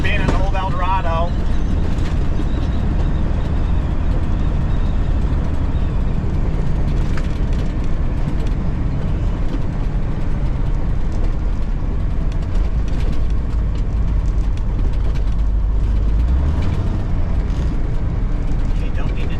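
A 1990s-era International Transtar II 290 truck with a Cummins diesel engine drones in a steady low rumble from inside the cab as it drives, with some thumping, while someone talks throughout.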